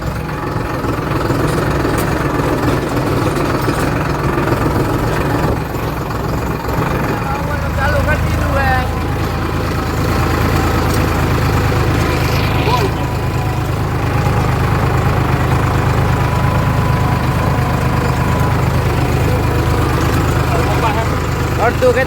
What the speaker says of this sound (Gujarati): ટ્રેક્ટર લઈને નીકળી ગયા વાવવા પાછા